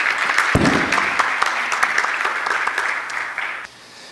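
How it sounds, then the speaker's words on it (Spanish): Audience at an electronic-invoicing forum applauds an expert panel: dense, steady clapping from a sizable crowd, fairly loud and continuous, tapering slightly before dropping off near the end. "Les pido un aplauso a este panel de expertos"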